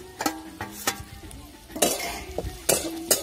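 A spatula stirs bitter gourd pieces and a spice mixture in oil in a pan for a dry sweet-and-sour vegetable dish. It makes several short scrapes and clinks with a soft sizzle underneath, and no voice is heard.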